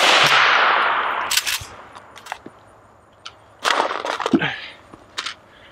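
Century Arms AK63D, an AK-47 variant rifle, deep into a continuous-fire torture test with burning handguards, firing its last rounds as a few sharp, loud cracks in two bursts with quiet gaps between.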